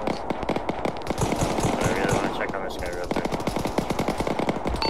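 Machine gun fire in the military shooter Arma 3, rapid bursts of close, loud shots with short gaps, while voices talk over the shooting.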